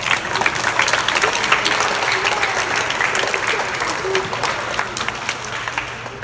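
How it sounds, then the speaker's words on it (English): A church congregation applauds its Sunday school teachers, a dense, steady wash of clapping that holds for several seconds at a fairly even level. "give them a round of applause"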